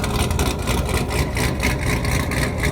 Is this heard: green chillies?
no